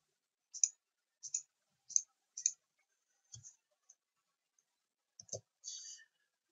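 Crisp, quiet computer mouse clicks sound one at a time in an irregular sequence while elements are modeled in structural design software, with short silent gaps between them.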